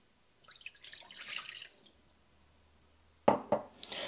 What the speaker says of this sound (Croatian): U tu posudu ću dodati 230 ml vode